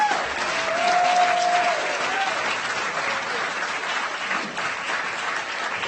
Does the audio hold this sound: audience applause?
yes